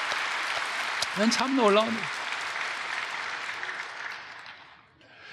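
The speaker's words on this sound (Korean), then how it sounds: "크게 하면 하나님께 박수하시고." Congregation clapping in a church during a sermon, a broad wash of applause filling the room while someone speaks briefly over it, the clapping fading toward the end.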